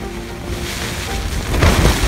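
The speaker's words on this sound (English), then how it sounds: "Raining." Rain falls outdoors during a Dall sheep hunt in Alaska, a loud, broad, continuous hiss with a heavier rumbling patch near the end, close and steady with no voices.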